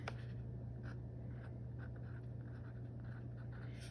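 A pen scratches across paper while writing a colour name beside watercolour swatches, a soft, close, intermittent scribbling over quiet room noise.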